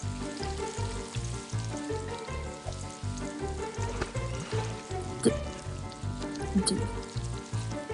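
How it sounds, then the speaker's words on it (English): Bacon sizzles and spatters on a grill with a steady, dense frying crackle throughout, close and fairly loud, with a few sharper pops and brief talk over it. "you gonna bring that bacon back on the grill?"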